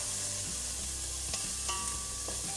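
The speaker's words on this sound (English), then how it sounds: "And just saute that for a few minutes over medium heat." Two cloves of garlic and a cup of chopped onion sauteing over medium heat, a constant close sizzle with a few sharp clinks and scrapes of a utensil against the pan.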